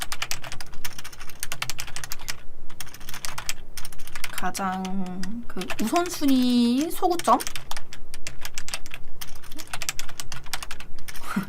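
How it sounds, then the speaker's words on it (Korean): Typing on a borrowed computer keyboard, a steady clatter of rapid keystrokes running through most of the stretch, close and fairly loud, with someone speaking Korean over part of it. "제 키보드가 아니다 보니까 좀 오타가 많이 났는데"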